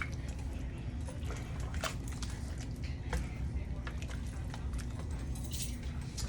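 Pasta is stirred through a pan of alfredo sauce, making continuous close, thick squelching with a few light clinks of a utensil against the pan.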